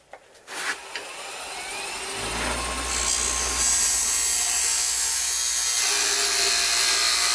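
A turning tool scores a line into a wooden candlestick spinning on a woodworking lathe, a steady whirring, scraping hiss that builds after a few soft knocks and holds close and continuous.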